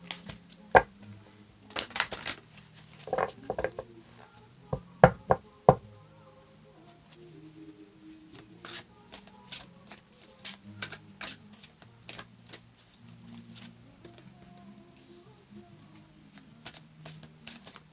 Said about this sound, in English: I do like to shuffle a couple times on camera so you can see that I'm shuffling them